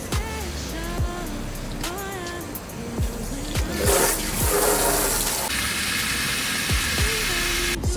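Water gushes and sloshes while filling the filter canister of a cold plunge, with splashing bursts and repeated squeaky chirps throughout, growing into a steadier rushing flow.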